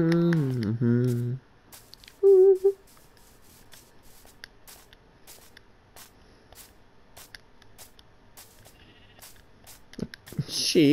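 Minecraft sheep bleat from a video game, a clear, loud harmonic bleat opening the clip and a shorter call a moment later, with quiet game ambience and a faint bleat near the end.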